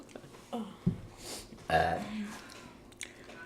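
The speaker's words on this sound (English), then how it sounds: "I just burped." A single throaty burp during a meal of Hot Cheetos and Takis corn on the cob rises out of quiet background noise, fairly close and moderately loud, with a few faint murmurs around it.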